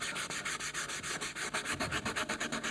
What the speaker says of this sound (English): go back in and sand it again with the fine grit